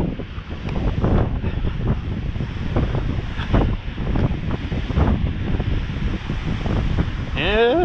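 Strong wind buffets the microphone along a bay shore at high tide, a loud continuous rumble with rough water beneath it.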